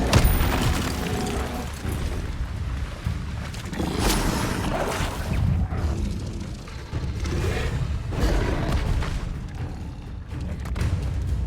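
Incendio fire spells cast during combat in Hogwarts Legacy, heavy booming bursts and rumbling impacts layered over continuous dense game noise, loud throughout with several distinct blasts.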